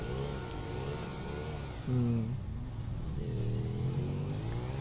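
Car engine revving in the video game GTA5, a steady mid-pitched drone with a sharp rev surge near the middle, then settling back to a continuous drive.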